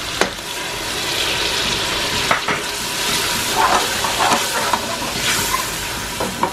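Tomatoes hit hot oil in a pan for a pumpkin and chana dal dish, giving a loud, continuous hiss and sizzle with a few scrapes and clicks of stirring.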